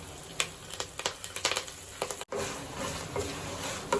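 Dried chillies, asafoetida and curry leaves frying in hot oil for a raw tamarind rice tempering, giving a steady crackling sizzle with scattered sharp pops and a brief dropout midway.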